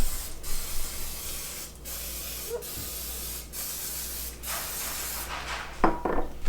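Cooking spray from an aerosol can misted onto a Belgian waffle iron in several short bursts, soft close hisses separated by pauses, finishing with a longer spray and faint clatter.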